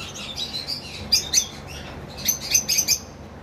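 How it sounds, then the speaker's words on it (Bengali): A cream-face cockatiel chirps in short, bright bursts, several quick tweets in two clusters, close and fairly clear over a quiet room background. "আর আমার কাছে এক পিস ক্রিম ফেস কোকাটেল রয়েছে"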